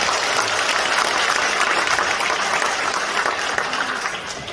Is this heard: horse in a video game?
no